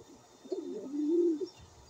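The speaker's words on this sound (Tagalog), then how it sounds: "Ito po kalapatids." A pigeon in a fancier's loft gives a single low, soft coo that swells and then trails off against a quiet background.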